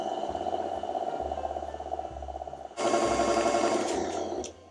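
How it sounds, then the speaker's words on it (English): Electric mixer beating chocolate cake batter on slow, a steady close whirring hum with a few short pulses, then a jump to a louder, busier whir for the final seconds. "going to carefully start mixing that on slow, trying not to slop it all over the place"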